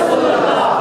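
A large crowd at a Pakistan Independence Day religious gathering roars a slogan in unison, one loud sustained chant of many voices close and filling the space.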